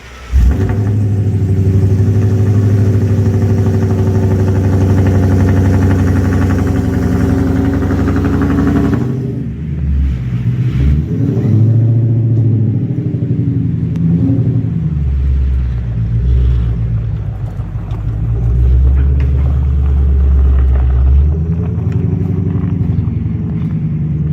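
A Ford Shelby GT350 (S197 Mustang) on new Rohana RC7 wheels pulls away, its engine rumbling loud and close throughout with a steady low drone that shifts in pitch as it drives off.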